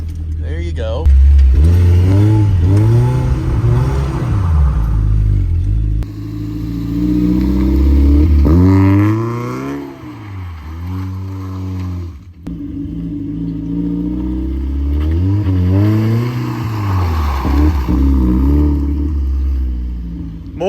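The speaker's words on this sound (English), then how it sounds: "dump the clutch, and give it gas. See how you broke the wheels loose?" Lowered stance car revving hard, then dropping the clutch and spinning its wheels, with repeated rising and falling engine revs and rumbling bursts up close, broken by brief pauses, while people talk over it.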